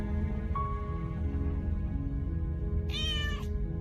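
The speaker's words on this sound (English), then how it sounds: "you feel free to just meow" A cat meows once, a short rising-falling cry near the end, heard over a steady low background hum.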